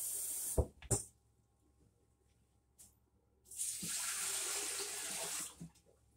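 Tap water gushes steadily into a metal canner for water-bath canning tomatoes, a loud rushing fill lasting a couple of seconds after a few brief knocks and clunks near the start.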